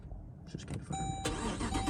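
A Jeep Grand Cherokee Trackhawk starting up: a brief starter crank followed by the engine catching and settling into a steady idle with a high whine, close by and without talk.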